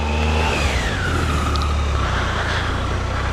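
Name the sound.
car doing a burnout, tire spinning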